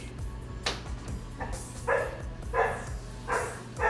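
A dog named Zoe barks indoors in a run of sharp, loud barks, about four or five spaced at roughly half-second intervals, with a low steady hum underneath and no talking.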